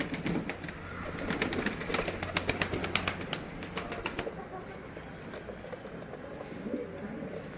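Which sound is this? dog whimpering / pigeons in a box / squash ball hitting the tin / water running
pigeons in a box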